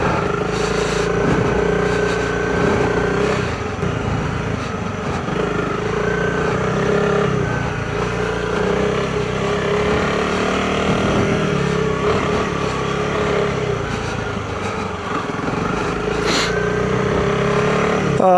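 A motorcycle rides off-road on trails at Bragg Creek after a K-Tech suspension upgrade. The engine drones steadily and loudly for the whole stretch, with shifting pitch as the rider throttles, mixed with rumble from the terrain and wind.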